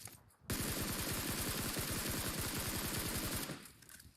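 Rapid full-auto burst from the Sky L gun in PUBG Mobile, a loud, dense stream of evenly spaced shots lasting about three seconds before stopping abruptly, followed by a short fading tail.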